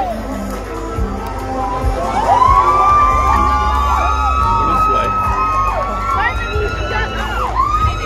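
A festival crowd at a Songkran celebration at a Thai Buddhist temple in Brisbane cheers and shouts on and off, with high whistling or shrieking calls rising over steady loud crowd noise, near and lively throughout.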